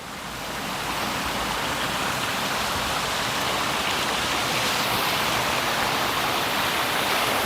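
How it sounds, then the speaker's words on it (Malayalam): A small waterfall in Munnar rushes in a constant, dense roar of falling water that holds steady and fairly loud throughout, with no voices. "നമ്മൾ താഴെ ഒരു കുട്ടി വെള്ളച്ചാട്ടം കണ്ടു"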